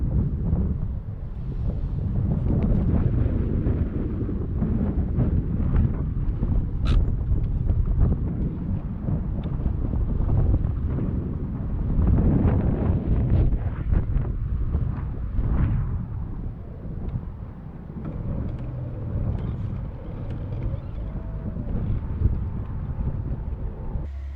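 Strong wind buffeting the microphone in heavy, continuous low rumbling gusts at Wheeler Lake, with faint water sounds in the background.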